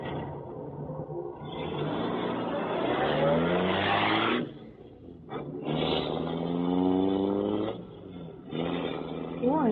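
A car engine runs steadily throughout a radio drama scene featuring the Black Beauty, a continuous motor drone underneath two men's conversation, with brief pauses in the talk.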